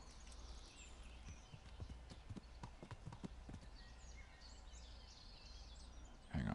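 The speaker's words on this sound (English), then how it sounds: "Horse." Horse hooves clip-clop at a steady walking rhythm in the medieval video game Kingdom Come: Deliverance, moderately near over a constant outdoor ambience with faint birdsong, and no voices.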